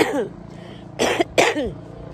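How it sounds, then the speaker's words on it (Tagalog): A person coughs several times in quick bursts, close and fairly loud, with short pauses between the coughs. "inuubo na ako hanggang ngayon"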